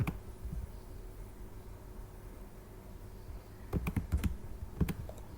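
Login credentials are typed on a computer keyboard: a close, quiet background hum, then a short burst of distinct clicky keystrokes near the end, with no talking.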